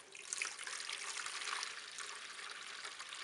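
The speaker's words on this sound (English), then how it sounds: "So I skim water" Water is skimmed from a clay-throwing bucket to reclaim clay, a close trickling and splashing pour that swells and then tapers off.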